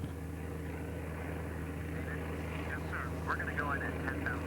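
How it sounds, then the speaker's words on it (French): A research aircraft flies toward the eye of a cyclone, a steady, droning engine hum with a constant low tone throughout, while a voice talks faintly over it. "L'avion commence son approche à une altitude de 300 mètres."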